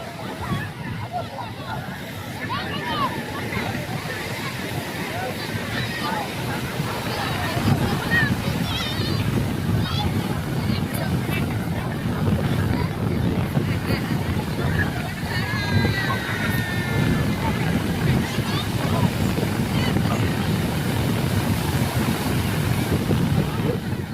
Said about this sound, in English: A fantastic ocean.